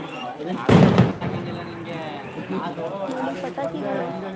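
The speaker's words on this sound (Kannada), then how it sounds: "ಪಟಾಕಿ ಪಟಾಕಿ ಹೊಡಿತಾ ಇದ್ದಾರೆ" A single loud, sharp firecracker burst rings out nearby during a Sankranti festival celebration with cattle, followed by people talking.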